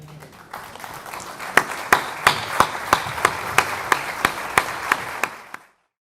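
A small audience at a memory, truth and justice conference claps in a slow rhythm, with a dozen sharp, evenly spaced claps over a light patter before it stops abruptly.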